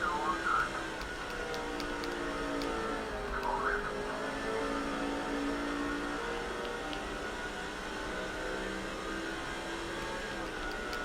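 Race cars running laps on a track in the NASCAR 06 Busch Series game at IRP, a steady loud engine drone with passing cars whirring by throughout.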